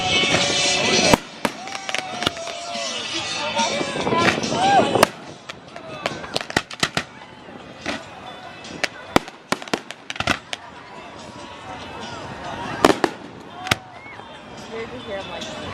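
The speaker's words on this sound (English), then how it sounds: "So right out in front of us, if you can see it, is the barge that they're going to be shooting fireworks off." Fireworks are launched from a barge on the water and burst in a rapid series of sharp cracks and booms that echo off the surrounding hills, with a busy rattle early on easing to scattered louder reports.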